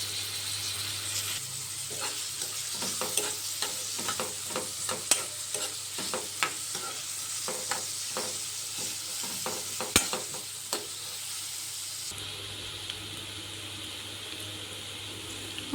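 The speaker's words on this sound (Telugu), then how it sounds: "ఆనియన్స్ని బాగా ఫ్రై చేసుకోవాలి." Onions fry in a pan for a capsicum and potato curry, giving a steady close sizzle with frequent scraping stir strokes, and there is no talking.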